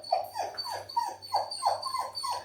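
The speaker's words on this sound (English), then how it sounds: "I'm sure you can hear the dogs in the background." Several dogs whimper and whine hungrily for their lunch, a rhythmic series of high, falling whines repeating close by without any talk.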